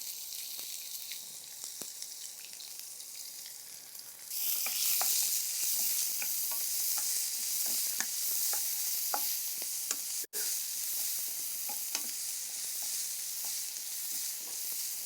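Chopped onions hit hot oil seasoned with asafoetida and burst into a loud, steady sizzle, with spoon scrapes and stirring clicks over the frying. No one talks.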